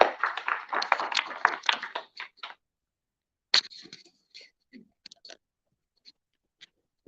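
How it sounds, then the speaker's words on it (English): An audience at an evening class applauds as the woman introduced steps up to speak. A burst of clapping close by fades out within a couple of seconds, followed by a few scattered claps and small clicks in near silence. "So let's give her a round of applause as she comes up tonight"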